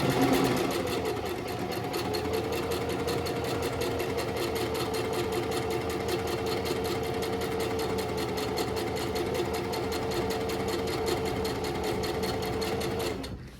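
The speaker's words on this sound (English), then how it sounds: "I'm gonna start sewing, and then I'm gonna backstitch. And continue sewing." A sewing machine runs steadily for over twelve seconds, stitching and backstitching a seam on kimono fabric with an even, close, whirring motor rhythm that never pauses.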